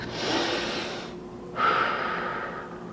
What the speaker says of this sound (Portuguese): Inspira pelo nariz e expira pela boca.